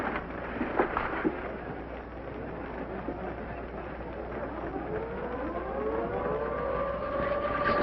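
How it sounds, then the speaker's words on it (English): An air raid alert siren wails across a noisy wartime scene with rainy, rumbling background texture; its rising, sustained tone climbs in the second half and holds steady and fairly loud. "It's the second alert since the drop."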